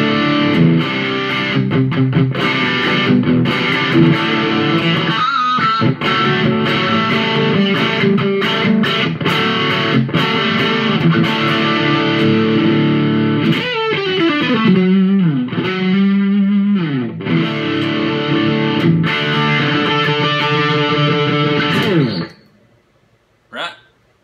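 A distorted electric guitar plays sustained chords and riffs, dry and close, before cutting off abruptly near the end.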